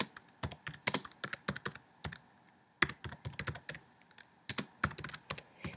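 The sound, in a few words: typing on computer keyboard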